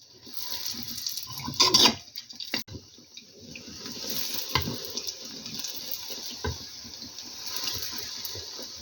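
Oil hisses and crackles steadily as meat-filled dough pastries fry close by, with a brief louder burst of spattering early on and no voices.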